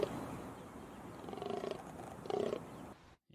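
Deep, guttural croaking calls of a fallow deer buck in rut, two rough bursts rising out of low background rumble outdoors, fairly distant and moderately loud, with no voices.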